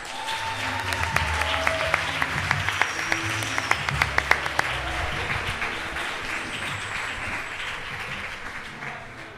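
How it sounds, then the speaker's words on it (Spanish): Crowd applause at the Pamplona Poetry Slam, the sixth event of its third season, a dense, steady wash of clapping that swells with a few sharper claps, then holds and slowly thins, with no one speaking. "pido un aplauso para la sexta entrega de la tercera temporada"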